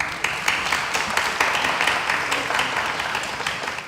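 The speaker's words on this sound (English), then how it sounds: "shall we give a round of applause to our" A conference audience applauds a panel on the future of work in the training and education sector, a steady wash of many hands clapping at moderate volume throughout, without talk.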